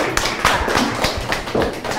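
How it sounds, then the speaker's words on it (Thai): A studio audience claps for the leading man on a Thai TV show, a dense, close burst of hand claps running steadily throughout. "ปรบมือให้พระเอกของเราค่ะ"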